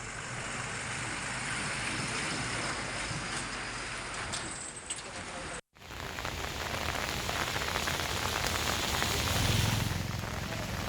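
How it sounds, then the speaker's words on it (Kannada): Heavy monsoon rain pours down steadily in the Malnad hills near Anemahal, Sakleshpur, during a landslide event. It makes a dense, continuous hiss with a brief dropout midway. "ಮಲೆನಾಡು ಭಾಗದಲ್ಲಿ ಕಳೆದ ಒಂದು ವಾರದಿಂದಲೂ ಕೂಡ ಧಾರಾಕಾರವಾಗಿ ಮಳೆಯಾಗ್ತಾ ಇದೆ"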